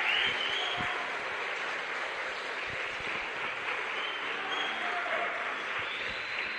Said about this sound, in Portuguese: Aplauda Jesus Cristo, que conquistou para você a salvação eterna.